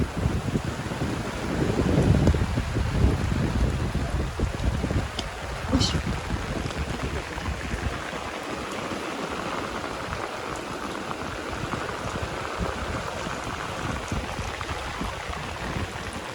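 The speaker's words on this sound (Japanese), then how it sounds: "その後だんだん雨が強くなってきました。" Heavy rain pours onto a sailing yacht off Tahiti, a dense steady hiss with gusty wind and a louder low rumble in the first few seconds, continuing unbroken throughout.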